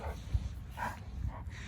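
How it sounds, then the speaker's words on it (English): A Kangal puppy and an older dog play together, giving short soft woofs and whimpery yips scattered over a quiet indoor background, fairly faint. "That's too happy dogs."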